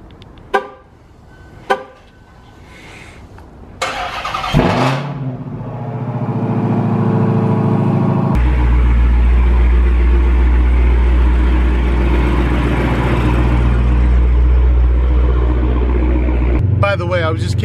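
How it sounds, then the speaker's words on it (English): A 2018 Dodge Challenger Hellcat Widebody V8 with 83,000 miles is cold-started after a couple of sharp clicks. It fires with a loud burst, settles into a deep, steady high idle, and then drops to a lower rumble near the end. "doing a cold start in the morning and waking up your neighbors"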